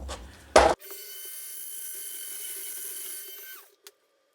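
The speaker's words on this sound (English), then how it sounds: "trimming off the back of the motor holder if there's any excess 3D print there" Trimming excess 3D-printed plastic off the back of a motor holder for a Bruder Jeep RC conversion: a short loud scrape, then a sustained close rasping cut lasting a few seconds, ending with a small click.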